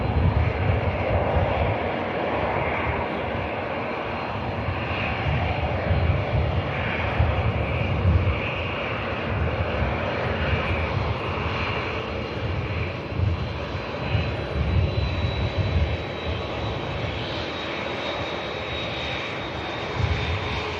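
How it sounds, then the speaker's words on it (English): A Juneyao Airlines heavy jet in Colourful Petals livery departs Manchester Airport, its engines giving a steady, sustained roar with a faint rising whine over about twenty seconds, heard from a distance and alone without voices. "I just caught a glimpse of the first heavy we're going to see departing today."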